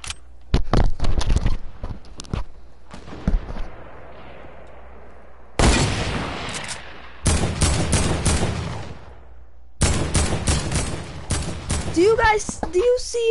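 Video game gunfire comes as sharp, loud bursts of repeated shots separated by short quiet gaps, with rapid strings of cracks and a voice talking between volleys.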